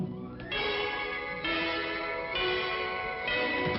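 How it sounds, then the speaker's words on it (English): Wedding bells ring out in a wartime army musical, with bright, sustained strikes repeating roughly once a second over four seconds, each tone ringing on under the next. "let the wedding chime bring happy times for Mandy"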